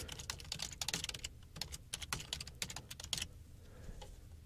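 Rapid keystrokes on a computer keyboard while a password is typed during a WordPress 3 setup, a quick irregular burst of close clicks that tapers off into quiet near the end.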